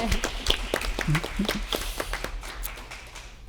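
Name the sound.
applause for science fair winners at city council meeting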